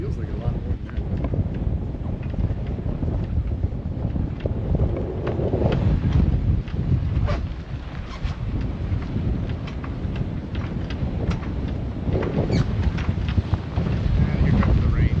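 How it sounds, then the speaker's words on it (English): Strong wind of about 15 knots on a sailboat, a loud continuous roar buffeting the microphone with water and hull noise beneath, while people talk throughout. "How much wind do we have? The wind speed's 15."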